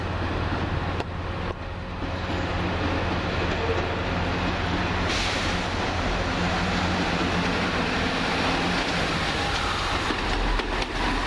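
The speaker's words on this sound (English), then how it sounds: "Next up, the 1811 Chiltern Railway service to Aylesbury." A Chiltern Railways class 165 diesel unit rumbles at London Marylebone, a steady, loud, continuous engine drone and rolling rail noise sustained throughout without talk.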